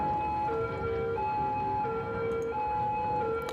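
A police car siren wails in the Cities: Skylines city-building game, its steady rising and falling tones repeating clearly and continuously over a low hum of city traffic.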